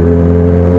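A loud, steady motorcycle engine drone with a deep, throbbing exhaust tone from an aftermarket Akrapovic megaphone-style exhaust, holding constant, no talking.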